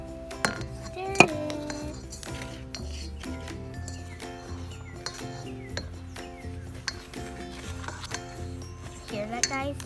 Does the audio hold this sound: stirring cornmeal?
yes